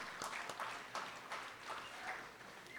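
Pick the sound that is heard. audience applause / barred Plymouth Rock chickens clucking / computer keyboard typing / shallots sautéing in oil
audience applause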